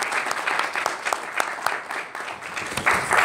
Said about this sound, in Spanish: un aplauso pues por convocarnos aquí en este día tan especial